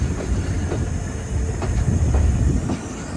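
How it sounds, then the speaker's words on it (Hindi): An overnight passenger express climbing into the Sehwan hills between Karachi and Sehwan gives a steady, loud rumble with faint rhythmic clicks of wheels on rail joints throughout, with no voices. "और हल्की की रोशनी में हमारी ट्रेन चढ़ चुकी है सेवन के पहाड़ों पर"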